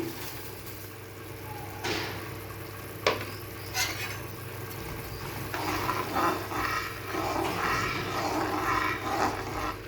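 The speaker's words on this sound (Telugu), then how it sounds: "ఇది మరిగినాక ఇప్పుడు బ్యాంబినో వేస్తానండి" Bambino vermicelli goes into a pot of boiling water and is stirred, giving a couple of sharp metallic knocks followed by bubbling and scraping against a low steady hum, with no talking.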